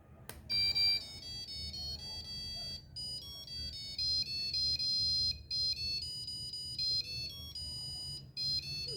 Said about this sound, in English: you can hear the Indian national anthem